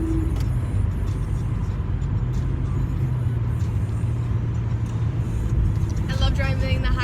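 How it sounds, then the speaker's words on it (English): A car cruising fast along a highway, with a steady, loud engine and road rumble filling the whole stretch and a voice talking over it. "I'm driving on the highway. I gotta speed up."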